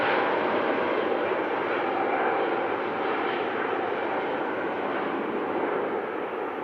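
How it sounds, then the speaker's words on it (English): An Airbus A350 jet rolls for takeoff, its engines giving a loud, steady broadband roar with a rasping buzzsaw edge that holds nearly constant throughout, heard from a distance with no talking. "A350 rolling."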